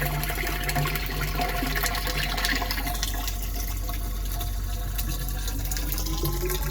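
A homemade water pump fills a container, giving a loud, steady rush and splash of pumped water that runs continuously and close for the whole stretch.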